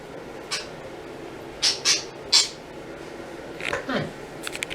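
A pet bird with clipped wings gives several sharp squawks in short bursts, some close and loud, over a quiet indoor background.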